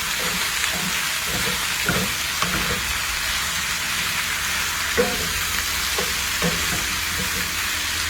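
Food sizzling steadily in oil in a pan, with a continuous loud fry hiss and intermittent soft scrapes of a spoon stirring the pieces, heard up close without talk.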